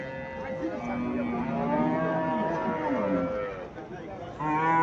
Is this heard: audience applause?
no